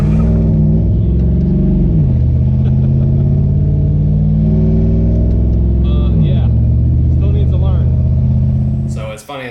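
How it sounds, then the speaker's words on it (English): A Camaro with a rebuilt Small Block Chevy 350 and a sticking throttle drives along, its loud engine holding a steady low drone that jumps in pitch around 2 and 6 seconds before easing off at the end. "took the Camaro here with the rebuilt Small Block Chevy 350 out for its first drive"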